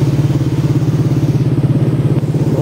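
Yamaha Aerox S scooter engine running steadily after an ignition wiring repair, a close, loud, even idle with a regular pulsing throb and light mechanical clatter throughout.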